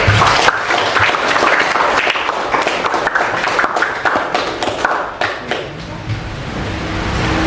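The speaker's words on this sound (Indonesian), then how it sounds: "berikan tepuk tangan untuk kedua tim" An audience at a high school Indonesian-language debate gives both teams a burst of dense clapping that stays loud for several seconds, then thins into scattered claps and fades near the end.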